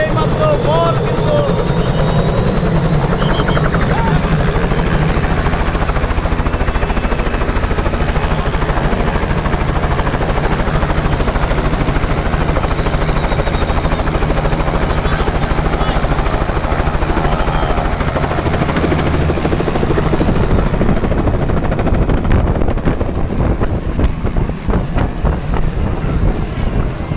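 A helicopter carrying a groom at a village wedding in Safarta roars loudly and steadily up close for the whole stretch, its engine and rotor drone thinning slightly near the end, with voices faintly mixed in.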